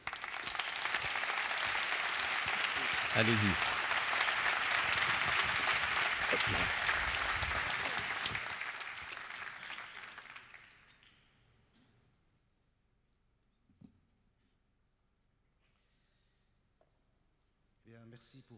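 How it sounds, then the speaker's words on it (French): Audience applause in a hall at a law students' pleading competition at the Caen memorial, loud and sustained for about ten seconds, then fading out into near silence; a voice speaks briefly at the start. "Je vous propose de l'applaudir."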